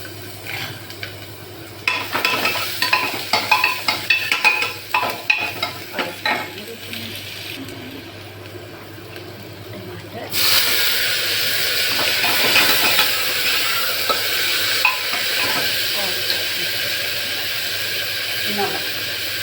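Ginger garlic paste sizzles and hisses in a hot pan while being stirred with scraping strokes, then settles into a steady loud frying hiss.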